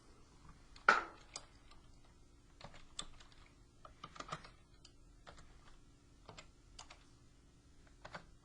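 Typing on a computer keyboard while entering a polynomial division answer: quiet, irregular key clicks, one sharper tap near the start, then scattered presses and short bursts with pauses, close and soft with no talking.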